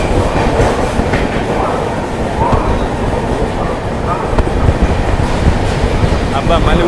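The Simhapuri, Gangakaveri and Hubballi express trains run past on the Hyderabad line, a loud, continuous, close rumble of wheels and rattling coaches that fills the whole stretch.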